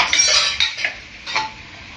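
Vegetable filling for a chapathi veg roll being stirred in a pan: a spoon scrapes and clinks against the metal in several quick bursts, close and fairly loud, with a faint sizzle and no voices.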